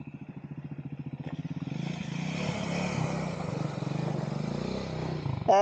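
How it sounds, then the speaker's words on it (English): A Royal Enfield Himalayan 411 on Bridgestone Battlax AX41 tyres rides an off-road section in the Cotswolds, with a steady single-cylinder thump that rises as the bike nears, then ends in a brief clatter. "So I think Gibbo is going to have a go at riding through this one."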